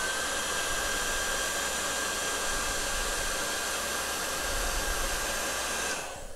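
A heat gun blows hot air to shrink heat shrink tubing on an insulated screwdriver, a steady, close whooshing hiss with a faint high whine that cuts off near the end; no voices.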